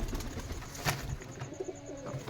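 Rajshahi Giribaz pigeons with feathered feet coo softly nearby, low throaty calls with a brief flutter and faint background noise.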